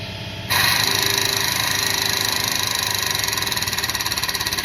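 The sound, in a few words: air compressor running in a home workshop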